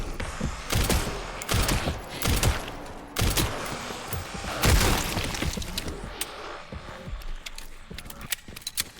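Gunfire in the video game Resident Evil Requiem comes as sharp, loud, irregular shots, some in quick bursts, over a noisy game soundscape.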